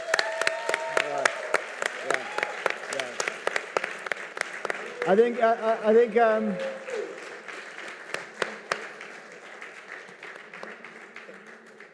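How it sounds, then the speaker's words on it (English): Someone speaks on stage at a fireside chat, then an audience breaks into applause; sharp individual claps, fairly sparse and moderately distant, fade in under his voice and continue after the talk stops, thinning out toward the end. "I think a big standing round of applause for this man"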